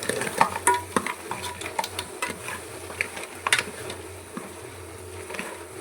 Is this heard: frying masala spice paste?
yes